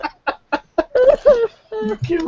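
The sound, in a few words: person imitating a squawking chicken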